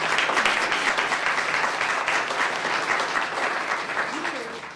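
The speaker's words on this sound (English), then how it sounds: "let's give them a hand of applause" An audience applauds at an indoor talk on wireless radiation, a dense sustained clapping that carries evenly for several seconds before tapering slightly at the close.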